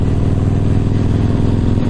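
A Yamaha MT-01 motorcycle fitted with Akrapovic silencers rumbles at a steady deep pulse while riding, loud and close, with no pauses.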